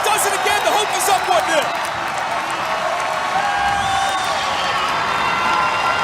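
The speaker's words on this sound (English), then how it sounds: "look how fired up this crowd is" A stadium crowd at a Virginia Tech versus Virginia men's soccer match roars and cheers after a Hokies goal, a loud sustained wash of shouting and whoops, with a commentator talking over it.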